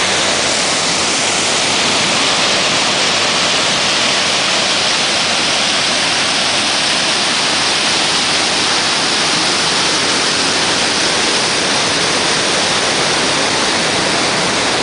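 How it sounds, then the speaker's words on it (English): A waterfall on the Wairoa River in the Richmond Range roars steadily and loudly throughout, a dense unbroken rush of falling water with no other sounds. "You can probably hear it. It's a pretty sick waterfall"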